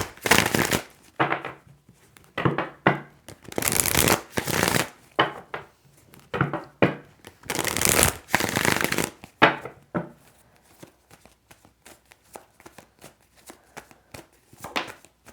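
A deck of tarot cards shuffled by hand up close, loud riffling bursts in repeated rounds, then quieter scattered card taps and slides.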